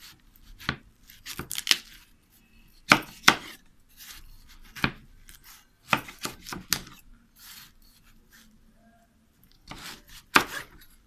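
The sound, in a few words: knife cutting watermelon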